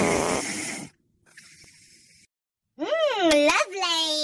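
A voice mimics a snoring steward with nasal snorts and a wheezy sigh, followed by a long wavering, whistling, groaning tone in a silly comic imitation, spaced by short silences.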